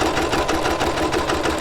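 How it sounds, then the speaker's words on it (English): A sewing machine back stitches along a fabric seam guided by a center fold, with a steady continuous motor whir and rapid needle rhythm running loud and close for the whole moment. "And I do back stitch."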